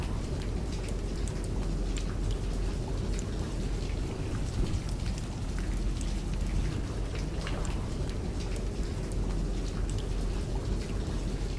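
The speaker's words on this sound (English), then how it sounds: "Oh god, rain pours down!" Heavy rain pours down steadily in the video game Fallout, a dense, continuous wash of droplets with a deep rumble beneath, loud and unbroken throughout with no voices.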